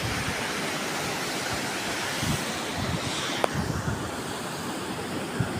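Sea waves wash the shore at Baler in a steady, broad roar, with wind buffeting the microphone and no voices.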